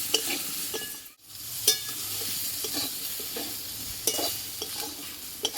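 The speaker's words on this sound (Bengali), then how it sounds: "কাঁচকলাটা পুরো ভাজা ভাজা হয়ে গেছে" Steady sizzling of raw banana pieces frying in hot oil, with occasional scraping and stirring clicks over the continuous crackle.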